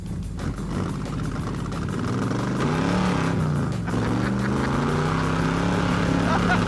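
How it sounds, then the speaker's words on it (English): A pro street car's big engine idling and revving while warming up, a loud rough rumble with pitch rising and falling as it is driven slowly in circles, with people talking over it. "Maybe I can drive it in circles while we're warming it up"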